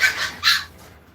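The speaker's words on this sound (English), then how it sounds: "You can hear my puppies in the background." Puppies yipping in the background during home cooking, two short high barks in quick succession, faint and somewhat distant against a quiet room.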